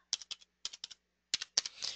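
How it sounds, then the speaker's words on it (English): Short bursts of typing on a computer keyboard as a name is entered into a contact field, with clusters of quick clicks separated by brief pauses, close and fairly quiet. "So I type in their name."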